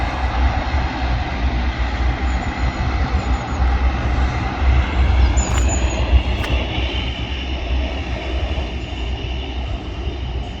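A Boeing 737 airliner lands on runway 23 right and rolls out, a loud continuous roar of engines and rushing air heard from a viewing park, holding steady throughout.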